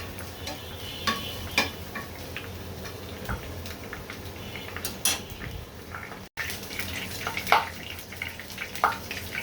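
Spices and chilies sizzle in hot oil in a pan during the tempering step for a sweet pumpkin and prawn curry, a steady close crackle broken by sharp ticks and occasional stirring clinks.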